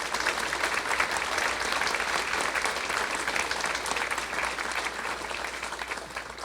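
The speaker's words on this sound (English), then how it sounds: "So let's give them all a round of applause." Audience at a 2022 State of the City event with the mayor applauds in a steady, sustained wash of many hands clapping, filling the room and tapering off slightly toward the end.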